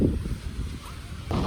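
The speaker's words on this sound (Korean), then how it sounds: "바람이 너무 많이" Strong wind by the sea in Jeju roars and buffets the microphone in a low, continuous rumble, with a gust swelling near the end.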